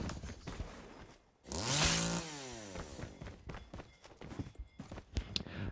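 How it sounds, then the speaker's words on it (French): A video game chainsaw revs up briefly with a rising, buzzing whine, then fades into clattering rhythmic mechanical noise; no talking. "Et donc on a ici sa petite tronçonneuse."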